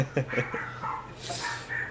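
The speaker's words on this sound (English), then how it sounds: "your dog does need to shut up though" A dog at close range gives short yips and whimpering barks in a few quick bursts, with background noise running throughout.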